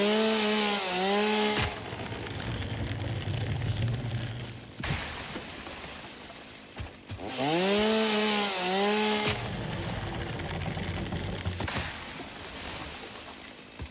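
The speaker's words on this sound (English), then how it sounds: "I'll just go ahead and chainsaw this thing down then." A chainsaw in the video game Satisfactory revs up with rising whines and then grinds steadily through a tree. The cycle repeats twice, loud and close, with no talk.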